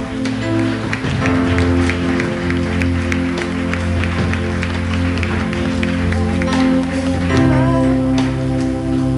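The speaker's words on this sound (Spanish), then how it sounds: "Dale un aplauso a Dios, por favor." Steady applause from a church congregation fills the space, dense clapping that runs the whole time over sustained music tones.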